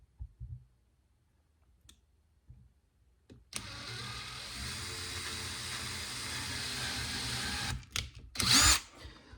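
A power drill whirs steadily for about four seconds after a few faint clicks, then stops, followed by a short burst of bright mechanical noise.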